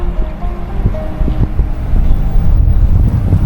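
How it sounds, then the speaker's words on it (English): Strong wind buffets the microphone outdoors among Christmas trees, a loud, continuous low rumble with gusty swells that grows stronger in the second half. "the wind is picking up"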